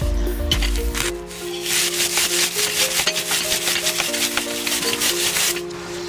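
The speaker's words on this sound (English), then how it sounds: "And then scrub down with a brush." A brush scrubs a bicycle drive chain in rapid rough strokes, a close, rhythmic rasping that repeats steadily over a faint background tone.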